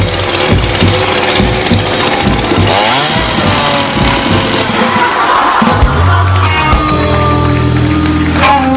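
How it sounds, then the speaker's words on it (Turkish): A loud power saw whines and roars continuously, its pitch shifting as it bites through material, with heavy low rumble throughout. "Bir testere vakası var."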